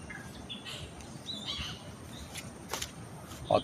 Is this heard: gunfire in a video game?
no